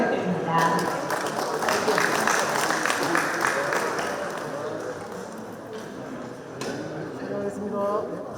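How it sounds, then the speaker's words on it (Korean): Council members at a Gyeongsangbuk-do provincial council plenary session applaud steadily, the clapping loudest early and gradually thinning, with a voice speaking over it near the end. "큰 박수 부탁드립니다"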